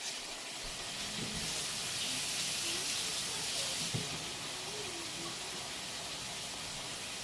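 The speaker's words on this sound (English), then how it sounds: "I'm going to wash my hands off" Hands being washed under a running kitchen tap: a soft, steady hiss of flowing water, faint and continuous, with a slight swell in the middle.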